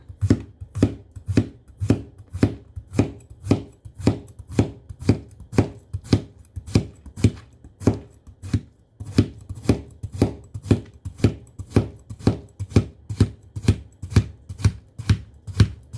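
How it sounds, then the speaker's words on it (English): A knife slices through a cucumber on a cutting board in a fast, steady run of crisp chops, close and regular, continuing without pause and with no talking. "So you cut the ends off, and then you slice it."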